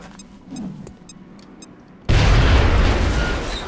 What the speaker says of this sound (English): Now let's throw a grenade in here so we blow up the wall.